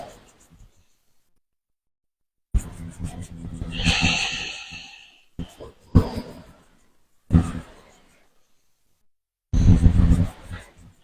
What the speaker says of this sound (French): Fais des grandes respirations.